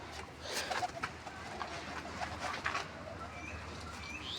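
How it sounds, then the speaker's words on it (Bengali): A pigeon coos softly amid faint background noise, a few brief low calls and light fluttering sounds, distant and quiet with no speech. "এই যে পায়রা"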